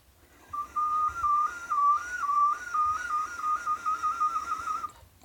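A soft, airy tooth whistle holds a steady pitch, warbling gently up and down for several seconds before fading out.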